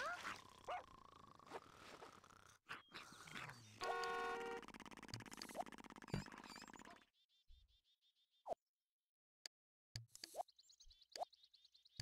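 A pet dog in The Sims 1 makes a string of quiet game sounds, with yips, whimpers and a soft bark in short bursts, then scattered clicks and pops separated by near silence.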